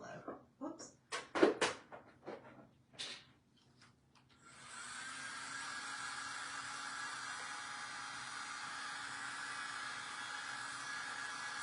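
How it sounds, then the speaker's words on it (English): A few short knocks and a bit of talk, then a blow dryer switches on at its low setting and runs as a steady, even whoosh at moderate volume until the end. "I'll just put it on low."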